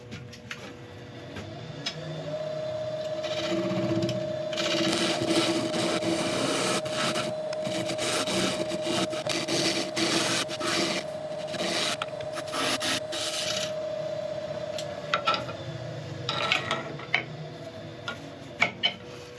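Abrasive sanding on a wood-turned bowl spinning on a lathe, a steady rubbing rasp over a constant motor hum, swelling louder through the middle and easing off near the end, with a few light knocks.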